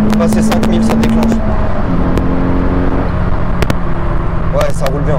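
A Citroen Saxo VTS 16v with 120 horsepower runs with a loud, steady engine drone and some rising revs, while voices speak over it throughout.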